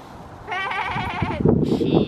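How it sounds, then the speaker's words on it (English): A sheep out in the countryside lets out a clear bleat at fairly close range, followed by a second rougher bleat, both standing alone against a quiet background. "Oh look! Oh sheep!"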